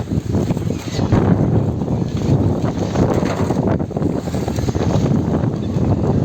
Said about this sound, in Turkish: Felaket bir rüzgar var.